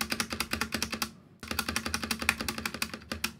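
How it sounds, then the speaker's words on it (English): Rapid typing on a Logitech G413 mechanical keyboard with brown tactile switches, a dense run of clacky keystrokes with a brief pause midway, close and clear with no talking. "The brown tactile switch is the one that's on this keyboard."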